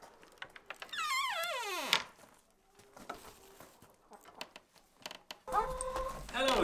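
Rhode Island chickens on a farm: a rising and falling drawn-out call, scattered clucks and soft knocks, then more squawking near the end, close and moderately loud.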